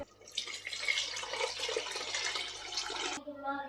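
Water poured into a pressure cooker while making Ambur-style mutton biryani with rice, a steady splashing pour for about three seconds that stops abruptly, leaving faint drips.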